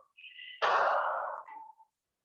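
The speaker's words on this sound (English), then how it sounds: "Relax with deep breathing." Deep breathing during yoga relaxation practice, heard as one long, loud exhale of about a second, with softer breaths before and after, alone and without talk.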